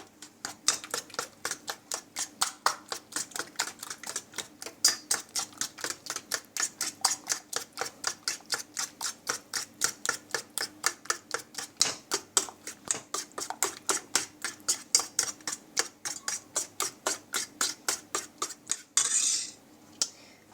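A utensil mixing butter into dough in a bowl, tapping and clinking in a fast, even rhythm of sharp close strikes that continue steadily and end in a brief rougher scrape.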